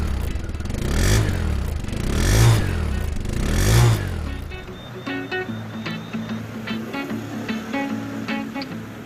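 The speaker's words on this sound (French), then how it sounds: "son moteur monocylindre 4 temps, doté de carters additionnels et d'un double échappement qui la ferait bien passer pour un V2" A Daelim Daystar 125 custom motorcycle with a single-cylinder four-stroke engine and twin exhaust, revving in three rising surges close by, then settling to a lower idle mixed with clattering background sounds.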